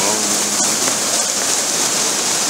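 Steady rain pours down around hikers on the Camino de Santiago on the long walk across Europe toward the Portuguese border, a dense, loud, unbroken hiss with no voices heard.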